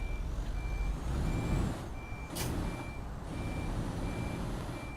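A small Mitsubishi Fuso SuperGreat truck in Euro Truck Simulator 2 backs into a parking spot, its reversing alarm beeping at a steady pulse over a low engine hum, with one brief hiss of air partway through.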